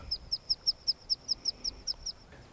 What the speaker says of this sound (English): this little duck is literally a foot away from me